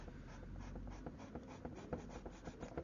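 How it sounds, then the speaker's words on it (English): A pencil eraser rubs over an airbrushed large-format portrait to lift highlights, giving a steady, close scratchy scrubbing made of short repeated strokes with no voices. "Go to the pencil eraser again and get some of the"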